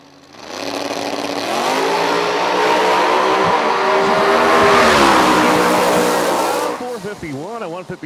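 Supercharged box-body small-tire drag race car, Stanley's Vortex-blown machine, roars down the strip in a loud sustained engine blast that swells then cuts off, with an announcer talking over it near the end.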